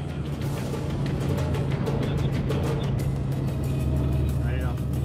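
Suspect car being chased on a motorway by a police vehicle in Marseille, a steady loud engine and tyre roar with road rumble throughout, with speech over it.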